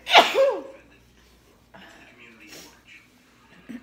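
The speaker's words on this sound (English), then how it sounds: "I'm gonna sneeze." A single sharp sneeze bursts out at the start, followed by quiet, soft talking nearby.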